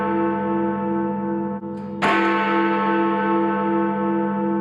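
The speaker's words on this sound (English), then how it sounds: "it's one of the biggest bells in the world and you hear that thing from a long ways away" Big Ben, one of the largest bells in the world, at the Parliament building in London: a deep, resonant bell tone sustaining with rich overtones, then a fresh loud strike at about two seconds that rings out and slowly decays.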